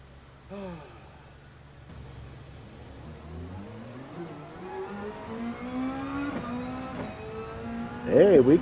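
A race car engine in a GT Champions Super GTC sim-racing game rises steadily in pitch as it accelerates through the gears, moderately loud and continuous, with a brief sharp burst near the end.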